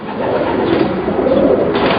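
Racing pigeons in a loft in Taiwan coo continuously at close range, a dense murmuring bed of overlapping low calls with no talk over it.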